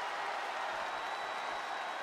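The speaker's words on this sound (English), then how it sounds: "Look at this crowd. It's insanity in here." A steady wash of crowd noise fills a WWE 2K22 video game wrestling arena during an Extreme Rules match, faint and distant, with an even roar and no distinct peaks.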